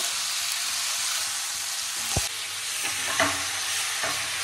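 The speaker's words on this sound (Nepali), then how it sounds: "अब यसलाई फ्राई गरौँ कस्तो हुन्छ एकछिनसम्म" Marinated chicken fries with tomatoes in a pan, a loud, steady close sizzle throughout with a few stirring scrapes and knocks.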